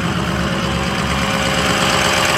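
A 2003 Ford F-350 pickup truck engine idles steadily up close after starting right up, a loud continuous low rumble with a fine rhythmic knock and no voices over it.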